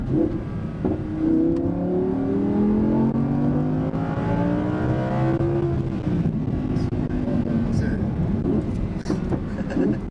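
An Audi R8 V10 Plus engine revs up and climbs steadily in pitch as it accelerates hard on a race track, roaring loudly, with people talking over it.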